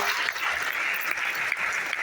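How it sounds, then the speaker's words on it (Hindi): Sustained, dense audience applause fills a business-plan seminar hall, steady and loud throughout with scattered individual claps standing out and no speech over it. "जबरदस्त तालियां"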